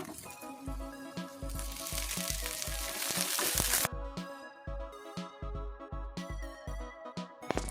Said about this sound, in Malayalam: കുറച്ച് ചുവന്നുള്ളി അരിഞ്ഞതും കൂടി ചേർത്ത് കൊടുത്തിട്ടുണ്ട് ഇതൊന്ന് നന്നായിട്ടൊന്ന് വഴറ്റി കൊടുക്കാം